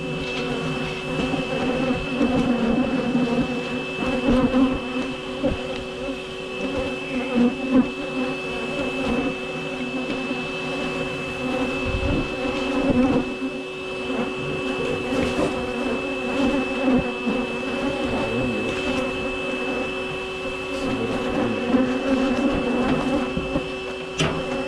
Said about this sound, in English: Just gonna vacuum as many bees as I can.